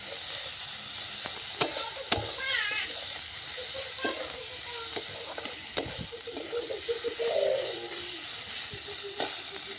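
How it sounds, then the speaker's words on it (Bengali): Garlic paste fries in a pan with a steady low sizzle, punctuated by occasional sharp knocks of a spoon; a cat meows faintly twice in the background. "রসুন বাটাটা দিয়ে দিলাম।"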